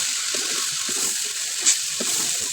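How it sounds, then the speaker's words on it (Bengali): Rice and mung dal fry in a pan for beef bhuna khichuri. A soft, steady sizzle hisses throughout, with faint stirring scrapes and one brief sharper tick near the end. "চালটা ভালো করে চাল ডাল কষিয়ে নিচ্ছে"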